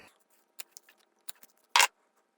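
Scissors snip through a paracord shoelace with a melted, sealed end, giving a few light clicks and then one loud, sharp cut close by, with no talking.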